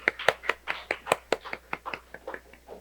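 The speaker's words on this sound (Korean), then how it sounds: "우리 박수로 환영하겠습니다." A small church congregation claps at a Sunday worship service to welcome someone back. A handful of close, sharp claps come in a loose, uneven rhythm and thin out over a few seconds.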